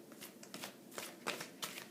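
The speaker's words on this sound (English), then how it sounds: "I like to just shuffle until one jumps out." Brian Froud Fairy Oracle cards are shuffled by hand, making a soft run of papery riffles and slaps in irregular bursts at close range with no talking.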